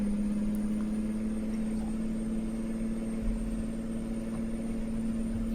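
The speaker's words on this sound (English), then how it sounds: "they have added some of their own engine sounds here," A Peterbilt 389 truck engine in the video game American Truck Simulator idles with a steady, low, droning hum. It stays even and unbroken throughout, alone with no talk.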